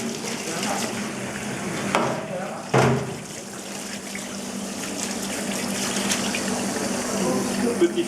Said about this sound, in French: Peux-tu m'allumer le robinet, s'il te plaît?